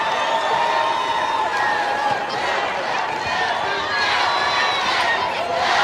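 A basketball crowd at a girls' high school state championship game roars and cheers for the Falcons, a dense, steady wash of voices and whoops held loud for the whole stretch.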